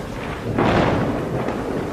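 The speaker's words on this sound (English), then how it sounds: "The sky is black and it is raining. There is a lot of thunder." A storm at sea, with a loud rolling thunderclap swelling over steady heavy rain; the thunder builds quickly and then fades back into the downpour.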